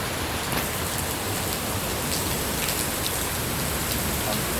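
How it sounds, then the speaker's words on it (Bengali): Heavy rain pours down outdoors in a dense, even roar of drops hitting surfaces, constant and close, with no voices. "অনেক বৃষ্টি হইতেছে"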